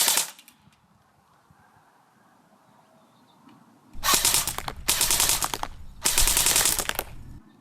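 A CYMA airsoft AK, a Cybergun Beta Spetsnaz Kalashnikov, fires on full auto in three loud rapid bursts of about a second each near the end, after a quiet stretch that opens with a brief rattle.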